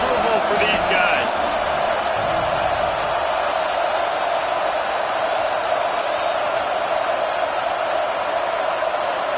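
A stadium crowd roars as a dense, steady wash of noise throughout, loud and constant, in the video game NCAA 26 during a college football matchup between Ohio State and Oregon.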